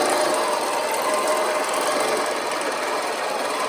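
A Q24 long arm quilting machine stitches with nylon thread, a dense, steady mechanical whir and rapid needle chatter running continuously at close range, loud and even throughout, with no voices.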